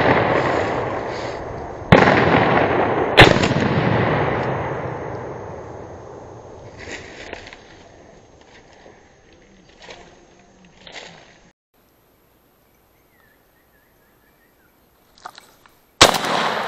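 Shotgun fired during a February woodcock hunt, with two sharp, loud reports a second apart and a long echoing decay. A fainter crack follows much later after a quiet stretch, with no voices.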